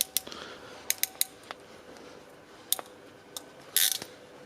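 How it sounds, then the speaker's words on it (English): Crimping tool pressing a ring terminal onto two gray wires during a tow mirror install on a 2007-2014 Silverado or Sierra truck: a close run of sharp ratcheting clicks, then a louder final squeeze. "I'm going to take both gray wires, put them into the ring terminal provided by Boost Auto Parts, and go ahead and crimp it down."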